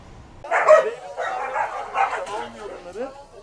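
Dogs kept on a house balcony in Antalya bark and yip in quick, close bursts, with a voice mixed in under them.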